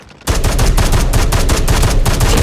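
Rapid automatic gunfire from a weapon in Call of Duty Mobile, a loud continuous burst of closely spaced shots that starts abruptly and runs without pause, with no talk over it.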